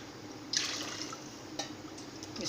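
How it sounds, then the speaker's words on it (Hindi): Three cups of water are poured into a pot of sugar while making halwa. A close, soft splashing pour stays fairly even, with a couple of sharper splashes as each cup goes in. "3 कप मैं पानी डाल लूँगी इसमें।"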